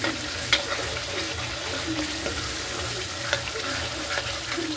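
Masala for chicken curry fries in a pan with a steady close sizzle, broken by a few sharp stirring scrapes and clinks of a spoon against the pan.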